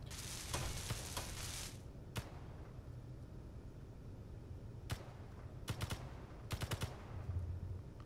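Automatic gunfire from the space survival game Space Engineers, a rapid burst of shots early on followed by scattered single cracks and short volleys, moderately distant over a low rumbling hum.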